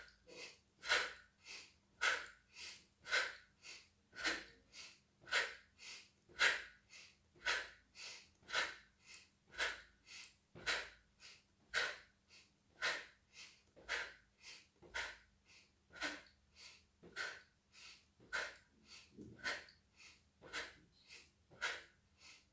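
Steady, rhythmic breathing in and out during a pelvic-lift breathing exercise, each breath a soft close puff repeating about once a second with no talk.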